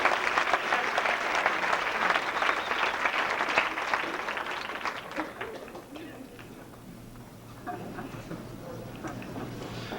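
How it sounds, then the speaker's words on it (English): An audience claps for a volunteer at a hypnosis comedy show, starting as full, dense applause and then thinning and fading in the second half while a voice talks faintly underneath. "Give her a round of applause for being such a great volunteer"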